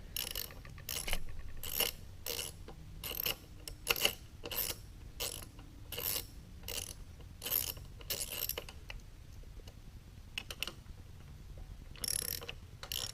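A ratchet wrench loosens 5/16 bolts on a Briggs & Stratton small engine, heard as repeated rhythmic clicking bursts of the pawl, close and fairly quiet, with brief pauses between runs.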